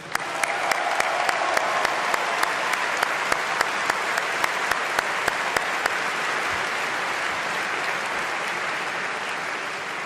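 Roaring applause from an audience at a French political campaign gathering, dense continuous clapping with a few sharp individual claps standing out early on, holding steady for about ten seconds.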